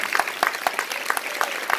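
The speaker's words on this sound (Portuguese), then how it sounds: "Vamos aplaudir a palavra de Deus." A small group at a church retreat claps briefly, uneven scattered hand claps at moderate volume.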